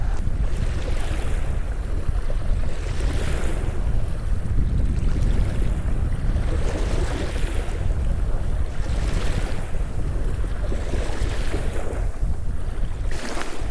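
Waves wash rhythmically onto the shore of Pangong Lake, a salt-water lake in Ladakh, in repeated surges every couple of seconds under heavy wind buffeting the microphone.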